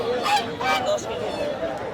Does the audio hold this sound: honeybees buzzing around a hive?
no